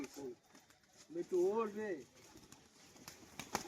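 Domestic pigeons playing and landing, with one close, throaty coo rising and falling in the middle, surrounded by faint flutters and soft scuffling noises in a quiet setting.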